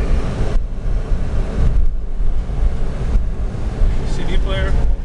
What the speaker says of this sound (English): The vehicle drives straight.